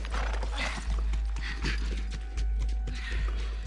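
Horse galloping in the video game The Last of Us, with rhythmic thudding hoofbeats arriving in regular bursts alongside a faint mechanical whir.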